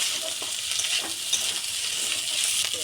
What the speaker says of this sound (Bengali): এবার নাড়ছে।